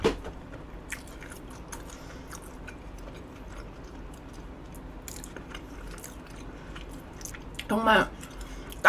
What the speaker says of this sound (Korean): 바로 한 입을 먹도록 하겠습니다.